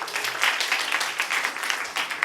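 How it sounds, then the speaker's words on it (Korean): Young people at a church youth service give a round of applause, a fairly faint, brief patter of many hands clapping together. "박수 한번 주세요"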